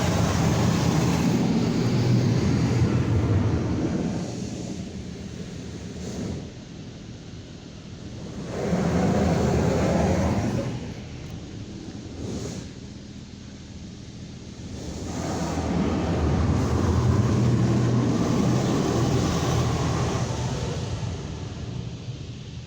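A worn PDQ Laserwash 4000 touchless car wash at Egan Car Wash in Birdsboro, PA makes a single pass over a car's front. Loud roaring water spray swells and fades in several long waves, close by, with no talking.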